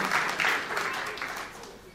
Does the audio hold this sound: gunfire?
no